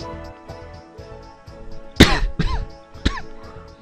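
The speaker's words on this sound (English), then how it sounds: "Had a cough, sorry." A person coughs sharply three times at close range, loud bursts cutting over steady video-game music from a PS4 playthrough of Sword Art Online: Lost Song.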